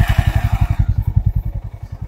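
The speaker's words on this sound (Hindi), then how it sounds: "आपकी बाइक स्टार्ट हो गई" A motorcycle engine fires up with its electric start switch, then settles into a close, loud, steady thumping idle with a fast even pulse.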